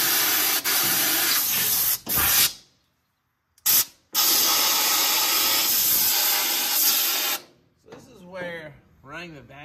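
A shop vacuum runs steadily while a car body is cleaned out after media blasting before epoxy priming, a loud broadband hiss with blasting-air bursts, cutting out briefly and ending in a short stretch of talk.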